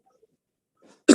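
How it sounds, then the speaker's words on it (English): After near silence and a faint breath, a single sharp cough bursts out close to the microphone. "I'm having a very bad cough."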